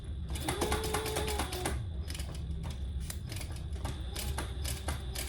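A sewing machine top stitching a hot pink waist pack, running slowly and steadily as a close mechanical whir with rapid, repetitive needle clicks.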